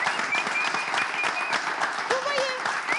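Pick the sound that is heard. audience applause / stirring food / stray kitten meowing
audience applause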